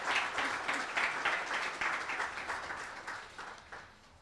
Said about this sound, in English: We can give them a round of applause too